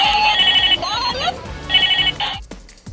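A toy telephone rings loudly in repeated bursts of trilling electronic bell tones broken by brief gaps, with a voice talking underneath.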